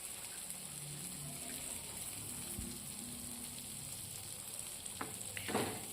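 Garlic, onion slices and chili fry over very low heat in a pan, giving a steady soft sizzle throughout, with a brief stir or clatter near the end.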